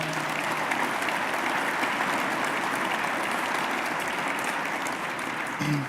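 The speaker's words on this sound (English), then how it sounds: "So let's give them another round of applause." Sustained applause from a luncheon crowd at an Association for a Better New York event with Governor Cuomo, a continuous even wash of clapping that carries on with no break.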